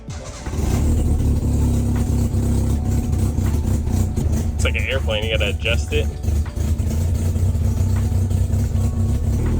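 Nissan Skyline Hakosuka engine cranking and catching on its first startup after restoration, then settling into a loud rough idle with exhaust leak rasp, someone speaking briefly over it.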